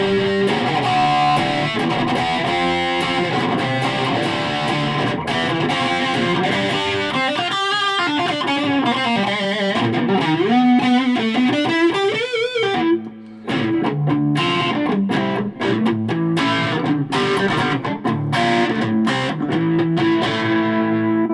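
An electric guitar plays through a Roland Micro Cube amp with heavy metal distortion, loud sustained chords and riffs, a bending run, then choppy palm-muted chugging, with no talking.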